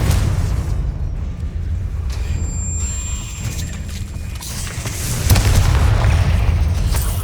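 A booming Confringo fire-spell explosion in the wizarding game Hogwarts Legacy. It sounds as a dense, heavy rumble that carries throughout and swells into a louder blast about two-thirds of the way in.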